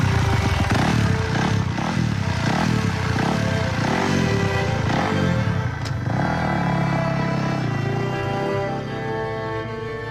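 A motocross motorcycle ridden by a woman accelerating hard, engine revs rising and falling in repeated surges through gear changes, loud and close, then tapering slightly toward the end.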